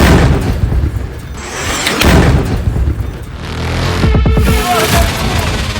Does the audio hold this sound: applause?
no